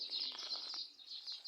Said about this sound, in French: des oiseaux qui chantent la belle mélodie pour le Créateur